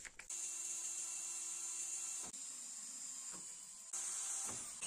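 A 3.2 mm bit drills through-holes in a piece of rotten oak, giving a faint, steady high whine with a couple of brief breaks where the drill stops and restarts.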